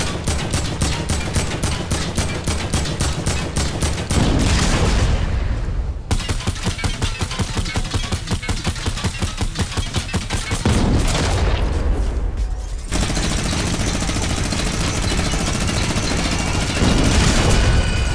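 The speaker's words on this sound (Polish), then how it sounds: "Pokażę teraz, ile mniej więcej trzeba zadać strzałów burzelotom z popularnych karabinów sztormowych i minigana." Rapid sustained bursts of assault rifle and minigun fire in Fortnite, long streams of shots separated by brief pauses, loud and close, with the whirring minigun firing continuously.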